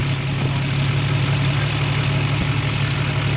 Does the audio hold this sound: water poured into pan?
no